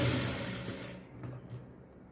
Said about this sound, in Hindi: सिलाई को पक्की करने के लिए हमेशा डबल सिलाई करिए।